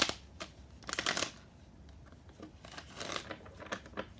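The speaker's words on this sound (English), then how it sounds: "Get these tarot cards shuffled up." Tarot cards being shuffled by hand, a few short papery riffles and soft flicks in quick bursts, close and fairly quiet with no talking.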